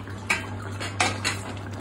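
A metal lid set over a pan of cooking pomfret fish, giving two sharp metallic clinks a moment apart, close by and otherwise quiet.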